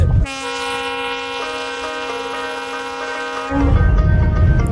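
A train on the Hardinge Bridge blows a long, loud steady horn with rich layered tones for about three seconds, set between bursts of rumbling rail and wind noise.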